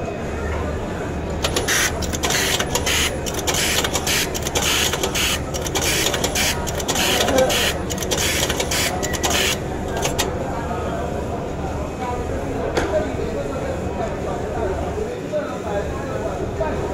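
A button fuse revolver machine for shirt buttons runs at a trade expo, a dense mechanical whir with rapid clicking pulses that thin out partway, while someone speaks over it.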